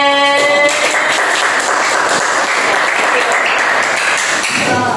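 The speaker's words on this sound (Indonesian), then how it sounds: "Boleh tepuk tangan untuk Ririn?" Classroom applause for a student, a dense wash of many hands clapping steadily for about five seconds, loud and close, with a brief chime-like ring at the start and voices mixed in.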